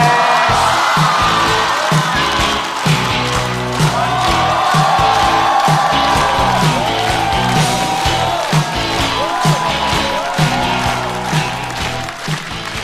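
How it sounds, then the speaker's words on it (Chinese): Loud, sustained applause and cheering from a live stand-up comedy show audience welcoming a comedian to the stage, with whoops over steady clapping throughout. "让我们掌声欢迎瑞瑞"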